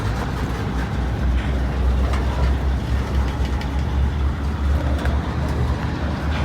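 A freight train's distributed power unit locomotive ramps up as a loud, low diesel rumble under steady rail and roadway noise, heard close and continuous.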